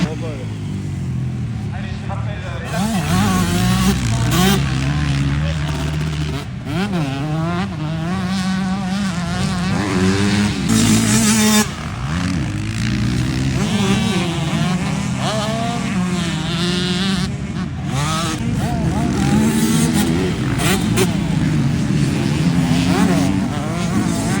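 Racing motorcycles lapping a circuit during free practice at Port-sur-Saône, their engines rising and falling in pitch as they pass. The roar stays loud and continuous, with repeated passes across the track.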